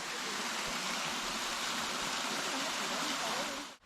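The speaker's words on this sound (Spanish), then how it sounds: "Cascada del abuelo Nicolás." Cascada del abuelo Nicolás waterfall in the Córdoba sierras, Argentina, a constant broad rushing roar of falling water heard up close, steady throughout and cutting off abruptly at the end.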